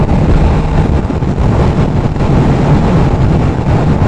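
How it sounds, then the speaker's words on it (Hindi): Steady cool breeze blowing across an outdoor spot at sunset, loud broadband wind rumble buffeting the microphone continuously with no pauses and no voices. "ठंडी ठंडी हवा चल रही है"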